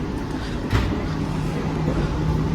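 Interior of the KA Gumarang train's dining car, a steady rumbling roar of the moving carriage with a faint low hum and one brief clunk, close and continuous.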